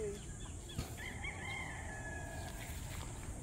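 Rooster crowing on a farm where chickens are raised, one faint drawn-out cock-a-doodle-doo rising and trailing off over steady background hiss, with no one talking.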